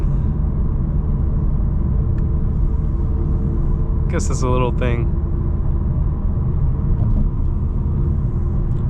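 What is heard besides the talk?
2025 BMW M4 CS driving on a rainy road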